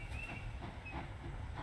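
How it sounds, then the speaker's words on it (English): Train at an abandoned platform in the video game The Lion's Song, a steady low rumble with a faint squealing hiss, moderately loud with no voices. "I could board the train."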